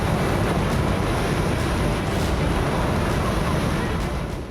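Water gushes from the ground out of a tube well in the desert sand of Jaisalmer, Rajasthan, making a continuous, loud, rushing roar with no break and no voices.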